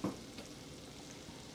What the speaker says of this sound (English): Now that we got the butter melted, we're gonna add our carrots that we have chopped up earlier.